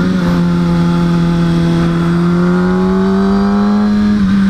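A motorcycle on a mountain road drones steadily and loudly close to the rider, its engine tone holding even with a slight rise and a wind-buffeted roar underneath.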